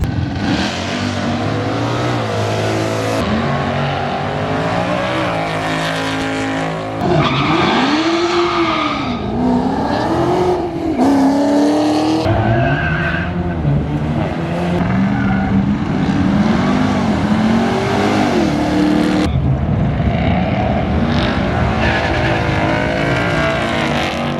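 Ford Mustang GT with Coyote V8 launching down a drag strip, with a loud sustained engine roar and tire squeal, rising through repeated gear changes and close throughout, with no talking.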